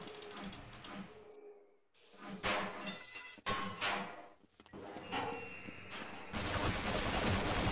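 Automated turrets in the Half-Life video game fire in rapid mechanical bursts, loud and rattling, separated by brief gaps before a sustained stretch of fire at the end.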